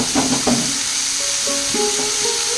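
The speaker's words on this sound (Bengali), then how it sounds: "এবার এর মধ্যে আমি সেই থোড়গুলো দিয়ে দিচ্ছি।" Pieces of banana stem hit a hot pan and fry with a steady, soft sizzling hiss that runs throughout, alongside a few faint tonal notes in the background.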